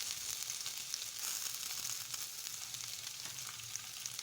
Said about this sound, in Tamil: நல்லா வதங்கி வரட்டும்